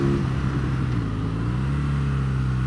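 A Kawasaki motorcycle engine holds a steady, loud droning hum at close range for the whole stretch, its pitch shifting only slightly, with no talking over it.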